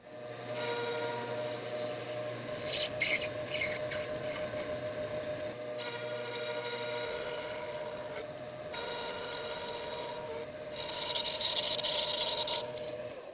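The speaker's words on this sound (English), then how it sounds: "It looks like somebody has done a repair and put two shafts together, and when they did, they've not centered them correctly." A misaligned lathe lead screw, two joined shafts that are not concentric, rubs as it turns, making a continuous rasping scrape over a steady mechanical whine that swells slightly toward the end.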